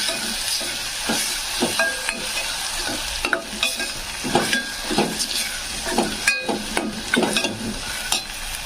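Tomato stirred into frying chopped onion in a pan: close sizzling with frequent spoon scrapes and knocks against the pan, steady and fairly loud, no voices.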